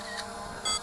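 An SG906 folding brushless GPS drone's camera fires a single quick electronic shutter click, brief and close, over a steady hum of background noise.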